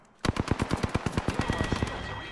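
Rapid automatic gunfire from a video game, a single burst of about fifteen sharp shots in quick even rhythm, loud and close, ending abruptly.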